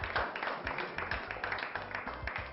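An audience applauds the crowned winner of a competition with continuous, fairly even clapping from many hands, moderately loud, with little talk over it.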